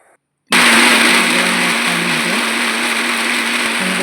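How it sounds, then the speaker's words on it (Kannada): After a short silence, a mixer grinder starts abruptly and grinds biryani masala finely, a loud, close, steady high whine with a constant motor hum that runs unbroken to the end. "ಇದನ್ನೆಲ್ಲವನ್ನು ನೈಸಾಗಿ ಗ್ರೈಂಡ್ ಮಾಡಬೇಕು"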